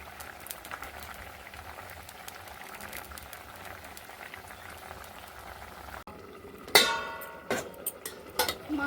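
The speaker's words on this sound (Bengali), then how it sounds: "তরকারিটা জল ঢেলে দেওয়ার পরে তরকারিটা বেশ কিছুক্ষণ ফুটে গেছে" A fish curry simmers in a pot after water has been added, bubbling steadily at a low, even level, then a louder clatter and scraping of utensils breaks in near the end.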